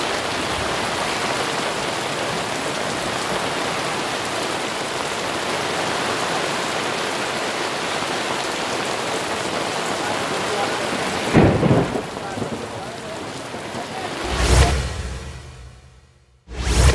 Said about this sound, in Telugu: ఉరుములు మెరుపులతో కూడిన భారీ వర్షం కురిసింది